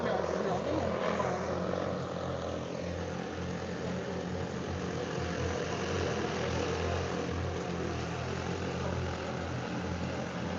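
A manned multicopter aircraft coming in to land during a test flight, a steady, dense rotor drone and whir that stays loud and close throughout, with no clear change in level.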